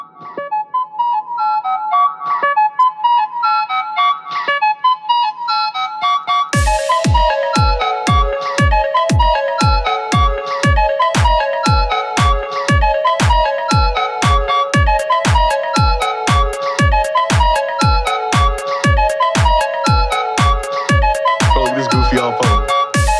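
An old phone's electronic ringtone plays a bright, repetitive melody, starting softly and then turning into a loud, steady run of rapid pulsing beeps that continues for over fifteen seconds.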